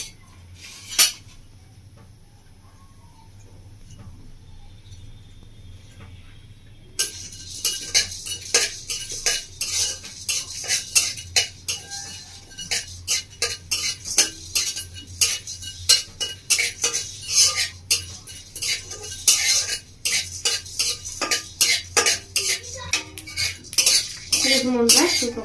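Dried chili, black pepper and ajwain dry-roasted in a wok, heard as rapid metal spoon clinks and scrapes against the pan, starting after a quiet opening and continuing in busy, uneven bursts.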